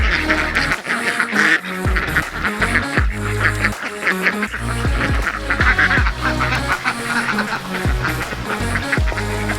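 Homestead ducks quack loudly and continuously near a pond, a dense overlapping chorus of honking calls with no talking.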